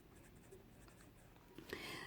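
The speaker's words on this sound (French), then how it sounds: "Donc ici, je vais écrire garçon." Pen or pencil writing a word by hand on paper in a quiet classroom-style setting, a soft continuous scratching at low level that grows slightly louder and busier toward the end.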